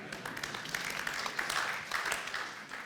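Faint, distant audience clapping at a construction summit round table, steady applause rising and falling slightly, with some voices mixed in.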